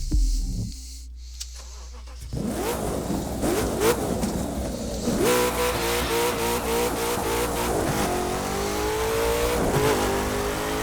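Game car from The Crew 2, with a 0-60 of 2.8 seconds and a 9.5-second quarter mile, revs loudly and accelerates hard with some wheel spin, the engine note climbing through several rising sweeps over steady background music.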